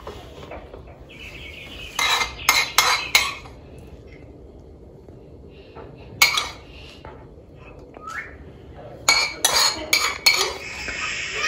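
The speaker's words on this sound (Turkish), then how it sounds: "Şimdi sofraya hemen kaşık çatal koyup oturacağım." Metal spoons and forks are set down on a table in a home kitchen, giving two clusters of sharp clinks and clatters with quiet gaps between them, plus a single clink in the middle, close and fairly loud.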